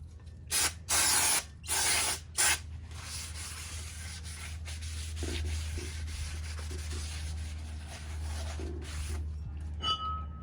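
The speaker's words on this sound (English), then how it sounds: "use brake cleaner to remove all the grease" Several short, loud hissing bursts of brake cleaner sprayed onto Lexus CT200H brake parts, followed by softer dripping and faint clinks over a steady low hum.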